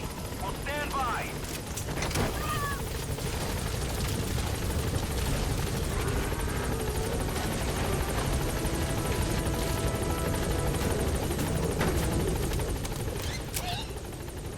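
A P-Quad helicopter arrives at a landing zone in Metal Gear Solid V: The Phantom Pain, its rotors giving a steady, loud drone across the whole stretch with occasional sharp clicks and voices over it.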